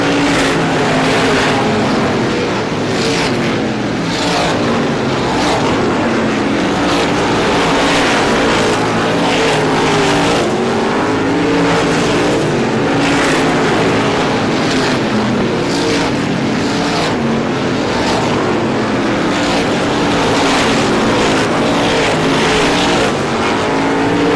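Race cars at a Star Classic oval race roar off the turn and down the straightaway, a loud, continuous, dense engine drone with overlapping cars and no talk.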